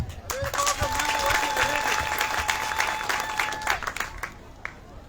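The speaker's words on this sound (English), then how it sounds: "let's give them a big round of applause for them." Crowd applause at a hospital grand opening in Bor, South Sudan, steady dense clapping lasting several seconds with cheers and a few voices mixed in before tapering off.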